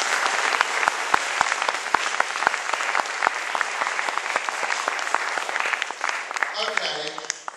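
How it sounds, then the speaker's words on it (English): Sustained applause from an audience at an awards event, a dense crackle of many hands clapping with sharp individual claps standing out, fading slightly toward the end. "haven't given a round of applause to Stu"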